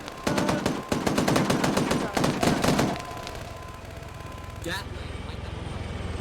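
Rapid bursts of automatic gunfire in Half-Life, loud and close for the first three seconds in dense repeated volleys, then fading to a steady rumbling engine-like hum with one brief sharp hit near the end.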